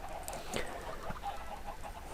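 Chickens on a large self-seeding cooked-chicken farm in Minecraft give a few soft, scattered clucks over a faint steady background hum.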